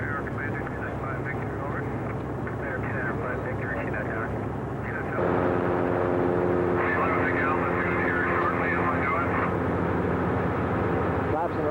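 A Northrop N9MB flying wing on a post-restoration test flight drones steadily overhead, a loud continuous engine and propeller tone that sharpens and grows stronger partway through, with a voice talking over it throughout.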